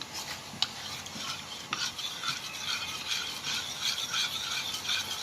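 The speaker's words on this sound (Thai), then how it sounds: "ตีแป้งให้เข้ากันกับน้ำครับอย่าให้เป็นก้อน" Brisk whisking and stirring of a wet flour-and-water batter in a bowl, a continuous scraping swish with occasional clicks, no voices.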